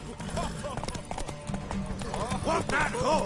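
Horse hooves clip-clop in a galloping rhythm during a race in The Witcher 3, steady and close under game music and spoken dialogue.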